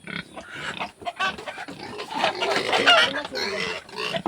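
A chicken that has been tied up clucks and squawks nearby, a busy stretch of agitated fowl calls that rises in intensity, with other farm birds mixed in.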